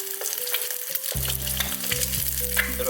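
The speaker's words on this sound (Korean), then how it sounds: "이렇게 기름을 좀 넉넉하게 두르시고요. 튀기듯이 프라이를 해주세요." Eggs fry in a generous pool of hot oil, a loud steady sizzle and crackle that runs throughout, with a low hum underneath and no talk.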